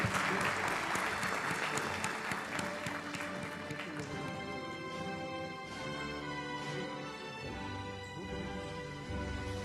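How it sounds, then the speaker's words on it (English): A graduation convocation audience at a medical college claps loudly and continuously, a dense sustained applause that stays strong throughout with music-like tones beneath it. "A huge round of applause for Dr. Asra Saeed"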